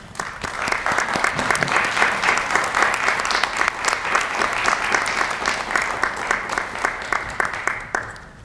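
An audience at a school awards day breaks into sustained applause, a dense wash of many hands clapping steadily for several seconds before it stops abruptly.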